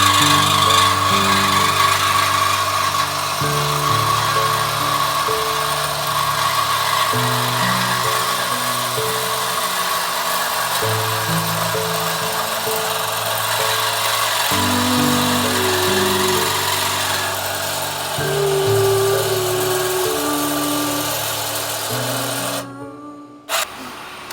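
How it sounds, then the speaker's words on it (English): A reciprocating saw grinds through a metal exhaust pipe on a Toyota GR Corolla in long back-and-forth bursts, loud and close, pausing briefly between strokes before cutting off abruptly at the end. "you're gonna hear the sounds of a Sawzall"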